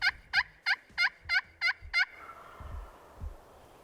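Seven loud wild turkey gobbles in quick, even succession from a roosted bird near a hunting setup, then fading into quiet ambient noise.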